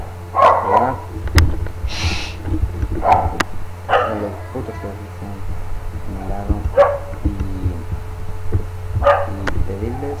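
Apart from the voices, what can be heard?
dog barking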